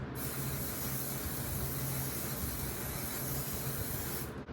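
A continuous close hiss of a makeup setting spray held for several seconds, then cutting off abruptly.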